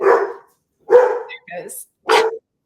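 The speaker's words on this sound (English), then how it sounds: "And now it's safe for them to bark." Dogs barking in several separate bursts, fairly loud and close, with short gaps between the barks and no talking over them.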